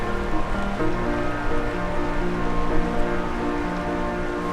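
Tuolumne River water tumbling over rocky rapids in a Yosemite canyon, a steady, dense rushing roar with no pauses, loud and continuous throughout.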